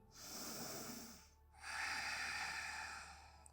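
Two long, deep breaths during a yoga session, the first a slow airy inhale, then after a short pause a fuller, louder breath, close and alone without talk.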